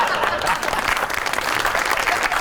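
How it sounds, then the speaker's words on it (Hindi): An audience applauding at a Pakistani entertainment news show, a short, dense burst of clapping that holds steady at close range. "उन्होंने तालियां भी मारी हैं"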